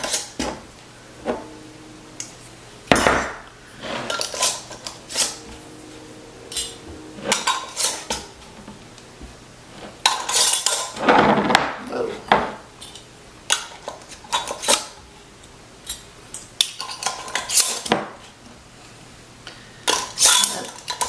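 Metal bands are screwed fingertip tight onto glass canning jars of bone broth, giving repeated clinks, scrapes and rattles of metal on glass in short bursts with quiet gaps, close and fairly loud, with no talking.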